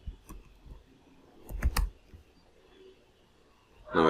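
A computer keyboard gets typed on in a few sparse clusters of clicks and key taps, quiet and close, with short pauses between bursts.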